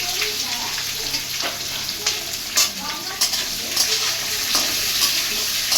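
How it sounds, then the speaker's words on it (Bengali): Onions frying in a pan with cumin for chicken posto, a continuous close sizzle with occasional stirring scrapes and clatters, moderately loud and without talk. "পেঁয়াজগুলো ভেজে নেব।"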